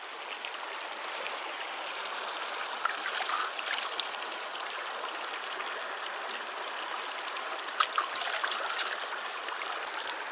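Stream water flows steadily through a Brazilian canyon, a soft, even rushing and trickling with occasional louder splashes, fairly quiet and alone.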